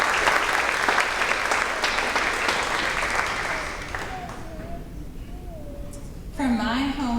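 Applause from families at a fifth grade promotion ceremony rises for an absent student, clapping steadily for a few seconds before fading as a voice begins speaking.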